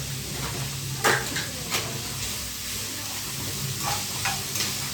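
Cooked rice frying in masala, a low steady sizzle with a few brief scrapes and clinks of a spoon against the pan, close and continuous with no talking.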